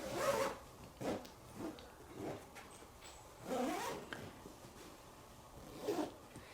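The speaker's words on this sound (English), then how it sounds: "there it is, easy to unzip" Several short zipper pulls open the cover of an XXL backrest pillow, quiet and close, coming in irregular strokes with brief pauses between them.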